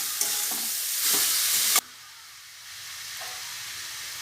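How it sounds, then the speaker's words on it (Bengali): Cabbage and spices stirred in a hot pan on a gas stove, with loud hissing sizzle and scraping strokes, then a sudden drop to a softer, steady sizzle. "এবার বাঁধাকপির সঙ্গে মশলাটা ভালো করে নাড়িয়ে দিই"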